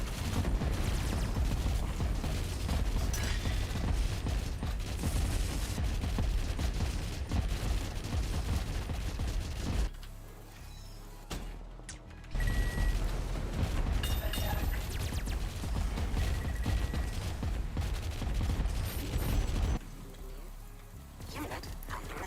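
Missile launches and explosive impacts in the real-time strategy game Rogue Command, a dense run of loud bursts and booms with a brief lull near the middle, under in-game alerts.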